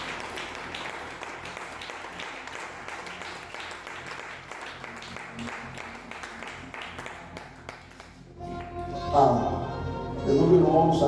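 A church congregation applauds and cheers with dense, sustained clapping over background music, and a voice speaks over the noise before the applause swells louder near the end.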